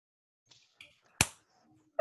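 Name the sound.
audience finger snaps and claps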